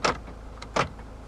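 Central door locks actuating on a 2014 Toyota RAV4 2.0 D-4D, two short mechanical clunks a fraction of a second apart, close and fairly crisp inside the car.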